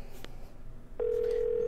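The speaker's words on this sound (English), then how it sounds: "you gonna answer the phone?" A telephone in the horror game Evil Inside begins ringing, a steady electronic tone that starts partway through and holds on after a brief quiet stretch of room noise, with no talk.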